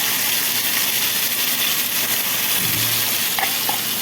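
Green chillies sizzling in hot oil with cumin, a steady, loud frying hiss throughout with a few brief clinks of a utensil near the end.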